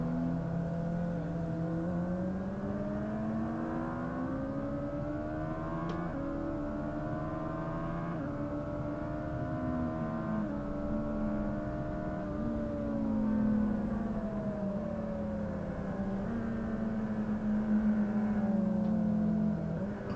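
A motorcycle on a race track's front straight during a novice track session drones close by, its engine pitch climbing steadily through the gears with brief dips at each shift, under a constant wind rush.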